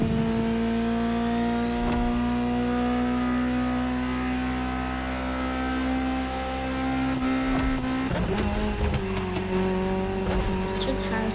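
Sustained Ferrari supercar engine drone in the racing game The Crew Motorfest, holding a steady pitch before shifting and revving near the end, loud and continuous.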